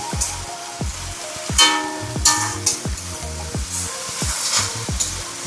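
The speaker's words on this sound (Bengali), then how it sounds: "দিয়ে ভালো করে এটাকে নেড়ে নিচ্ছি মাংস সমেত" Chicken in tomato sauce is stirred in a hot pan, a steady sizzle broken by repeated scraping and clanking spatula strokes at a quick, regular rhythm, close by with no voices.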